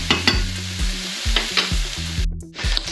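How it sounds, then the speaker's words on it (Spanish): Bacon sizzling and spitting hard in a frying pan, a dense crackle with sharp pops and stirring scrapes at a steady close range, briefly dropping out near the end, no voices. "ya tenemos el bacon doradito y ya va pegando saltos"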